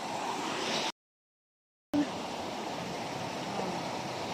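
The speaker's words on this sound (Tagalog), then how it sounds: "Ayan ay malaking alon sa likod niya." Ocean waves breaking at Bagasbas beach, a broad steady wash of surf with a brief gap of silence partway through.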